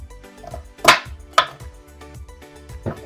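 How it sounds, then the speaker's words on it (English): A knife cutting broccoli on a board makes a couple of sharp, loud crisp snaps, with softer cuts and taps around them in an irregular rhythm. "This is one way to cut your broccoli nicely."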